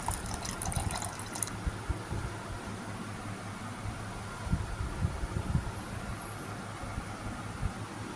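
Clean water poured into a grinder jar holding ginger, mint, jaggery and black salt for a homemade sugarcane-style juice; a brief splashing gush at first, then a steady soft wash of noise with no talking.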